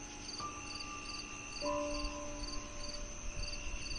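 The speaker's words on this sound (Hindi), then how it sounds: "जैसे ही वे जंगल के किनारे कदम रखते हैं, झींगुर की तान तेज हो जाती है।" Crickets chirp in a steady, rapid pulsing rhythm at the edge of a forest at night, fairly close and constant, with a faint tonal hum in the background and no voices.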